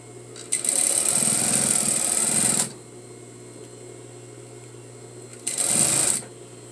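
A sewing machine stitches a facing in two runs, a long burst of fast, even whirring and needle clatter, then a pause and a shorter run, close and loud over a faint hum.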